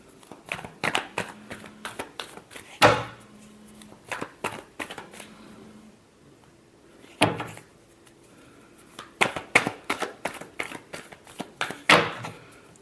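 Tarot cards shuffled in bursts of quick riffling flicks and slaps, close and fairly loud, with short pauses between rounds and no talking.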